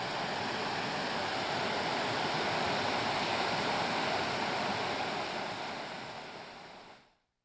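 Whitefish River near Nolalu, Ontario rushes past in a steady broadband roar of flowing water, close and continuous, no voices, cutting off abruptly at the end.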